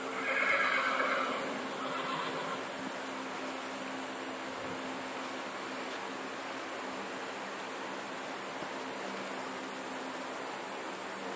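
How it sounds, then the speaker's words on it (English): A horse gives a brief whinnying neigh at the start, then a faint, steady ambient hiss continues at the end of a working day in the stable yard. "Who's a funny horse?"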